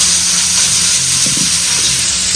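Sunflower-cut potatoes fry in oil with a loud, steady sizzle at close range, while a faint knock or two sounds from the pan beneath.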